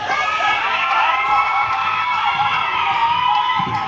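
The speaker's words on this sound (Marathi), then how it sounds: "मुलांचा जल्लोष बघा, जल्लोष किती आहे" Children at a village Holi festival cheer and shout together in a loud, dense crowd roar, a continuous blend of high excited voices and whoops with no pauses.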